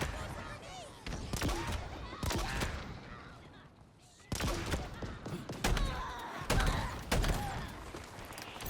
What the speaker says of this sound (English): that Hydra, just clearing out those guys, not necessarily by shooting directly at them, but just shooting the ground around them